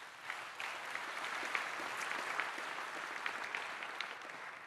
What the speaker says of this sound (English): A round of applause again for Art Sebastian and the Casey's team